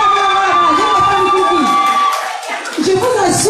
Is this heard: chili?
no